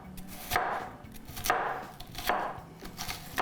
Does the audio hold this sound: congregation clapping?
no